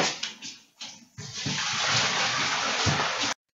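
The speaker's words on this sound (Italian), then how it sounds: "ci passiamo l'acqua proprio fredda, fin quando non siamo sicuri che le patate si sono raffreddate" Cold tap water runs into a kitchen sink over a container of boiled potatoes. It starts in a few short splashes, then settles into a steady, fairly soft gushing stream before stopping abruptly.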